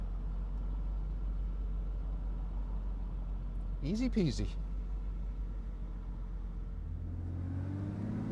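A 1998 Aston Martin DB7 Volante, a 17,000-mile one-owner convertible, idles with a steady low engine rumble throughout, a brief voice cutting in midway and the engine note rising slightly near the end.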